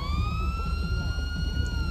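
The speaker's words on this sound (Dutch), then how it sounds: "komt deze sirene" A police car siren from GTA V's LSPDFR mod wails steadily in a continuous rising tone, loud and close over a low engine rumble.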